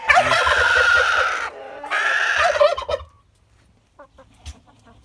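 Loud turkeys gobble in repeated bursts for about three seconds, then a few faint scattered clucks and pecking sounds follow in near quiet.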